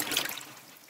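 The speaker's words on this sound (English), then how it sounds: "here are the apples in my slop sink being washed" Water rushing over apples being washed in a slop sink, a brief splashing gush that is loudest at the start and then eases off into a softer, steady trickle.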